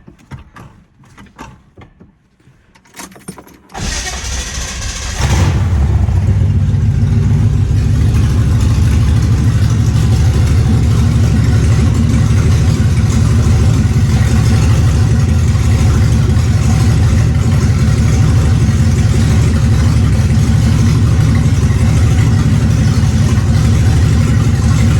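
A car with a newly swapped 6-speed gearbox cranks briefly, fires up, then settles into a loud, steady, close engine drone that holds for the rest of the stretch with no talk.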